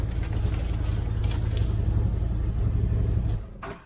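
CFMOTO UFORCE 1000 side-by-side engine, remote-started with no key, idling with a steady low rumble before cutting off abruptly near the end, leaving near silence.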